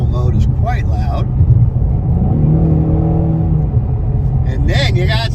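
Exhaust of a 2024 Ford Mustang EcoBoost in normal mode, a steady low engine drone with a brief rising rev in the middle, under a voice speaking at the start and end.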